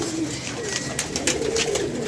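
Pigeons coo softly in a loft over a steady background hiss, with a few scattered wing flutters and faint shuffles, all close and fairly quiet.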